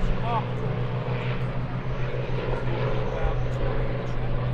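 Supermarine Spitfire FR-14 fighters getting airborne at the Sywell airshow 2024, a steady droning piston-engine and propeller roar close by and continuous, with a commentator talking over it.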